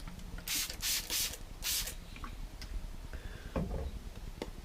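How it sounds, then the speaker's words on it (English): Several short hissing bursts from a water mister bottle spraying a watercolour painting, close by, followed by quiet handling noises and light clicks. "I'm just going to spray them a little bit with my mister bottle"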